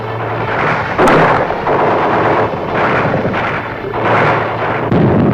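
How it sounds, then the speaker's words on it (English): Continuous rumbling barrage of gunfire and booming blasts in the streets during the Vietnam War, loud and dense, surging in waves with no voices. "Gunfire roared in the streets and panic spread throughout the population."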